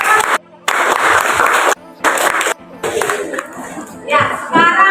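Students in a class clap for a presenting group in short, loud bursts of applause broken by brief silent gaps, with some voices mixed in.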